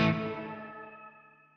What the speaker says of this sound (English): Let's engage the reverb.